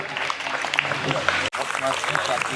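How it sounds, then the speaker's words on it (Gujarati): An audience claps for taekwondo students coming on stage at an athletic ground opening ceremony, with a brief break in the middle and a voice talking over the clapping. "આઈ રિક્વેસ્ટ એવરીવન, એકવાર તાળીઓથી વેલકમ કરીએ all the students of ટાઇક્વાન્ડો on the stage"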